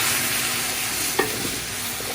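Brisket sauce of brown sugar, ketchup and tomato paste stirred in a pan, a steady soft sizzling hiss with one brief scrape of the spoon partway through, close and fairly loud, no talking.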